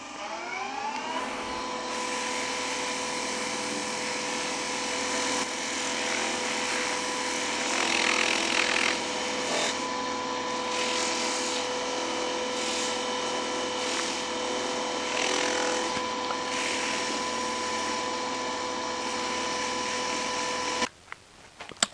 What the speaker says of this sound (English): And for final polishing, I'm going to go up pretty high.